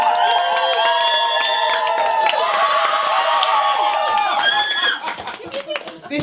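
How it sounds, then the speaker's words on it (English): An audience claps and cheers at a live showcase ahead of a singer's new song, with loud whoops and excited shouts over steady clapping that thins out and turns scattered near the end. "Clap again."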